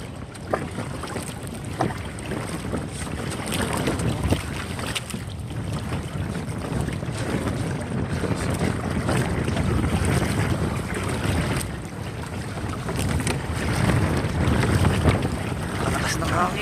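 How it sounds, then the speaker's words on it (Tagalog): Strong wind buffets a small boat out on shallow coastal water, a constant roaring gust noise with splashing waves and hull sounds throughout, loud and close. "Lakas ng hangin guys."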